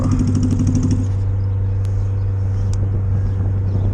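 A vehicle engine idles a little rich while waiting near a gas stop, giving a loud, steady, close-up rumble with a faint rattle riding on top and no break for the whole stretch.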